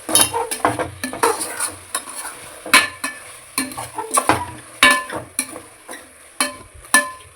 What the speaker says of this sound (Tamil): சிக்கனை போட்டு நல்லா வதக்கணும் ஃப்ரெண்ட்ஸ்